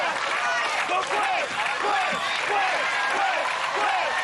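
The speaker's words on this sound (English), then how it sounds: "And the crowd chanting her name." Crowd at an American Ninja Warrior qualifying event in Dallas cheering and chanting a competitor's name, a dense, continuous roar of many voices with rhythmic chant swells throughout.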